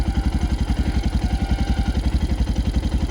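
A motorcycle engine running just after being started, a steady close idle with a fast regular chugging pulse and mechanical clatter, no voices.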